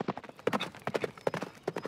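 Cartoon horse hooves clip-clop in a quick, steady trotting rhythm as characters ride, each hollow knock crisp and close, continuing evenly without speech.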